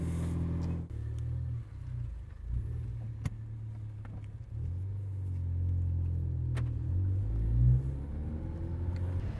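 A car engine cold-starts, cranking and firing up, then settles into a low rumbling idle with occasional revs swelling and fading, heard from nearby.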